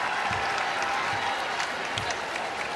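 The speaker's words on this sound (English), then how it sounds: "And the Gamecock fans on their feet applauding" Gamecock fans on their feet applauding in a basketball arena after a women's college game win, a loud continuous roar of clapping and crowd noise with scattered sharper claps standing out.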